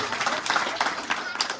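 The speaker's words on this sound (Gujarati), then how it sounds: "હવે છોકરીઓ તાળી પાડો." Girls in a group at a Parthiv Shivling puja ritual clap together in a brief, scattered burst of hand claps, with some crowd murmur underneath.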